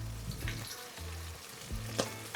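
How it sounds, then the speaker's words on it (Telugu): Onions and green chilies frying with tomatoes in a pan for mutton biryani give a soft, steady sizzle, with clinks and scrapes of stirring near the mic. "దాన్ని బాగా మిక్స్ చేసుకుని ఆనియన్స్ ఇంకా గ్రీన్ చిల్లీ కొంచెం వేగిన తర్వాత అప్పుడు మనం టమాటోస్ యాడ్"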